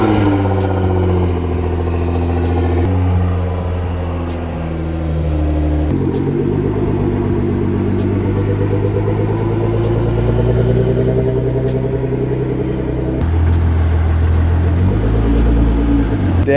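Nissan R35 GTR engine running close and loud as the car pulls out, a steady deep drone with several throttle changes and rising revs throughout.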